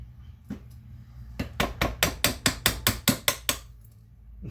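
A hammer taps parts of a front-wheel-drive manual transmission into place: about ten sharp, evenly spaced metallic strikes, close and fairly loud, after a single earlier knock.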